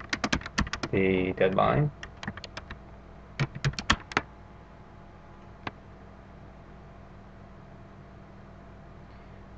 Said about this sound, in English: then you just type in the name of the plugin